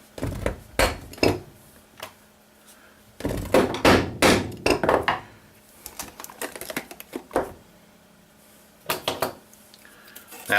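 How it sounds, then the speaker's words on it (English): Small metal parts click and tap sharply as a buffer pin is worked into a stainless Ruger 10/22 rifle, coming in irregular close bursts of clinks and knocks separated by brief quiet gaps. "So let's take and put the"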